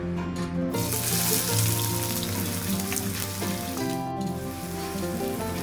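A bowl of finely chopped onion sizzles and crackles in hot oil in a kadhai, cooking for a spicy Maharashtrian stuffed brinjal dish; the frying is steady, close and fairly loud throughout, with no voices.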